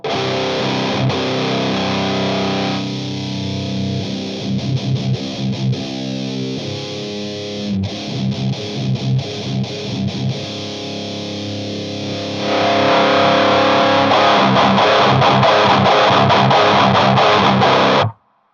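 Electric guitar driven through a Boss high-gain distortion pedal with the mids scooped, playing heavy, saturated riffs with chugging palm-muted passages, then a loud sustained full chord wall near the end, all instrumental with no talking.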